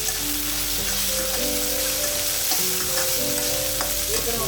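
Ginger and garlic sautéing in hot oil for a vegetable stir-fry, a loud continuous sizzle with faint stirring scrapes, no talking.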